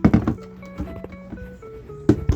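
A few dull thunks and taps of cut ginger pieces dropping into a blender, a cluster at the start and another near the end, with quiet tonal hum between.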